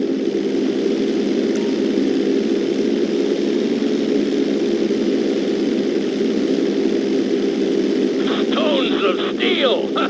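A propeller plane in GTA 5 performing a barrel roll, heard as a steady droning engine hum that holds evenly throughout, with some faint higher rattling near the end.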